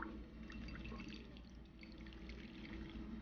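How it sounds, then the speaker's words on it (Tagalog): Hot water is poured over tofu in a bowl, a faint, quiet trickle and patter of liquid heard close up with no talking. "Tapos bubuhusan ko lang siya ng ating hot water."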